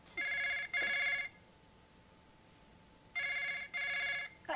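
An indoor telephone bell rings in two bursts, each a pair of bright electronic trills separated by a pause, clear and alone with no talk.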